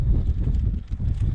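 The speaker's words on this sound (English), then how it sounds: "you've got the breeze coming off the estuary there." A steady breeze blows in off an estuary beside a railway bridge at Barmouth, Wales, a low rumbling rush of wind buffeting close to the microphone for a brief stretch, with no voices.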